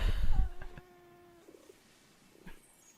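A cat in the video game Destiny 2 lets out a single drawn-out, tonal meow after being kicked, preceded by a brief thump and followed by faint ambient noise.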